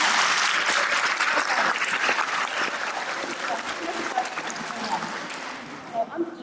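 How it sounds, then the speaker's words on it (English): Sustained audience applause at a concert honouring a choir, dense clapping that gradually thins and fades out with a few louder scattered claps near the end. "I would just like to give another round of applause to that wonderful choir"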